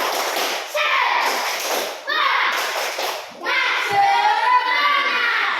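Schoolchildren perform the 'tepuk semangat' clapping chant in a classroom, several bursts of rhythmic group claps separated by short gaps, with children's voices chanting along and a brief thud near the end.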